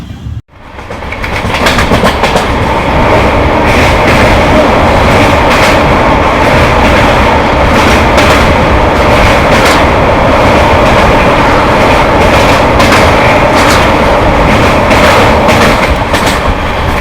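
A loud, close Amrit Bharat Express train rumbles steadily along the tracks with a continuous roar and rhythmic clatter of wheels, heard without any voices.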